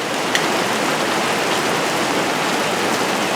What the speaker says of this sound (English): that one little cloud turned into quite a downpour